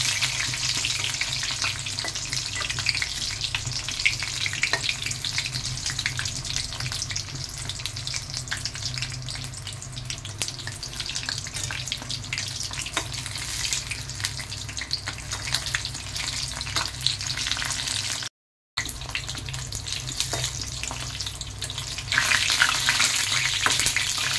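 Water lily flower fritters fry in hot oil with a dense, continuous sizzle and fine crackling, steady and close throughout, broken by one brief dropout and swelling slightly louder near the end.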